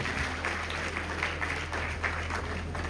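Wedding guests at a Rwandan wedding ceremony clap along in a dense, continuous wash of applause, steady and moderately loud over a low hum from the venue's sound system.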